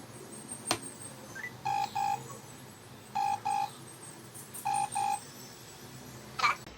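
A phone keypad dials a number in DTMF tones, sounding as short paired beeps in three separate clusters over quiet room noise, with a sharp click near the start and a rustle near the end.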